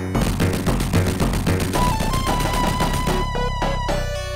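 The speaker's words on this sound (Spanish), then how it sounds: "Ese sí es un verdadero ruido de explosión." Explosion effects from the original Sonic the Hedgehog game, rapid crackling noise blasts firing like gunfire over loud game music, ending with a few sustained synth tones.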